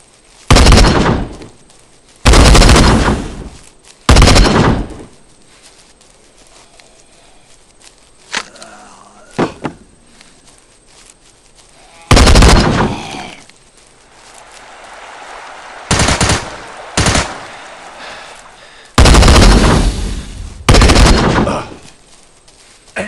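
Loud, close bursts of automatic gunfire in a shooter video game, about seven separate volleys of a second or so each, separated by quieter gaps with faint clicks and sparse background sounds.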